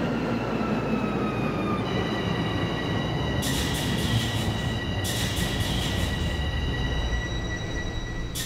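Subway train on TTC Line 4 Sheppard eastbound pulling into Leslie Station in the Hmmsim 2 train simulator game, with a steady loud rumble of rolling wheels and rising high tonal squeals and whines as it slows, no talk.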